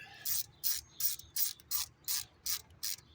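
A ratchet tightens an ignition coil bolt on a 2009 Honda Accord during a spark plug and coil change: eight evenly spaced, crisp clicking bursts, close and clear, with no talking.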